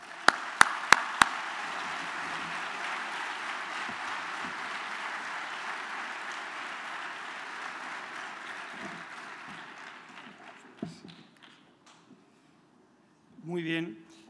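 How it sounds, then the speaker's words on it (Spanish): An audience at the Spainskills 2015 opening ceremony applauds, a few sharp claps leading into a steady, moderate wash of clapping that fades out, followed by a brief voice near the end. "Un aplauso para él."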